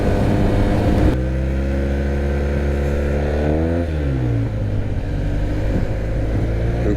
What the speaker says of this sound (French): Le pot à crack Racing, il chante parfaitement bien.